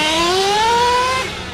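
A nitro RC car engine, a Kyosho USA1 or T-Maxx running rich, screams in a loud high-pitched rev that climbs steadily for about a second before dropping away, close and alone.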